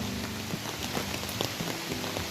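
Steady rain patters on a hard surface in Gir, Gujarat, with a dense hiss and scattered louder drops close by.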